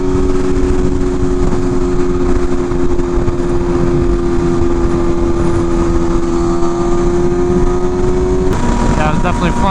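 Two 2023 BMW M1000RR sport bikes ride together, their engines holding a loud, steady drone with a sharp change near the end.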